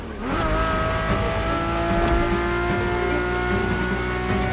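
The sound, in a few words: Ferrari F50 naturally aspirated V12 engine in The Crew Motorfest video game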